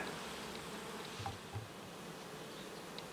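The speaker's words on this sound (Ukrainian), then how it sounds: "А тепер перейдемо вже до нашої головної бджолородини з молодою маткою" A honey bee colony in an Ukrainian-Alpine hive, headed by a young queen, gives off a steady, dense buzz that fills the whole stretch evenly, with a few individual bees flying close past and no voices.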